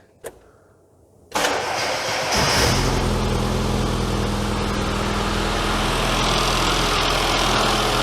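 A classic Mini engine cranks and catches with a burst, then settles into a loud, steady idle around 1200 RPM that continues throughout.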